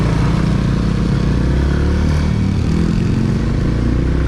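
A motorcycle engine labours to pull the bike uphill, giving a loud, continuous, close drone with steady low rumble and rattling clatter throughout.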